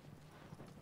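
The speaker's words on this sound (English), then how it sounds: "You ride the horse with triangle." Horse hooves clip-clopping at a gallop in the video game Shadow of the Colossus, very faint and low, a quick soft rhythmic patter with no voices over it.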